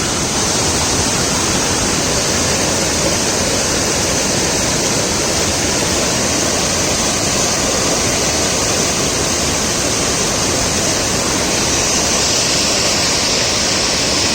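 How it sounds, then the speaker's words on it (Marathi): Heavy water surges through a dam after rain where fish climb upstream, a loud, steady broadband roar that stays constant and close throughout with no break. "भरपूरीला पाणी आहे"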